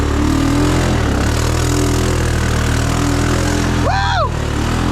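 A Honda 500 motorcycle engine runs steadily while the bike rides through deep water, a constant loud mid-low rumble with a brief rising whine near the end.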